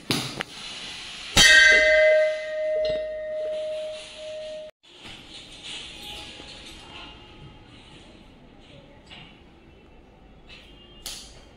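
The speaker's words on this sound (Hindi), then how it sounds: "इधर घंटी बजा सकते हैं" A single Hindu temple bell strike rings out loud and clear, its tone lingering for a few seconds before fading into quiet room noise.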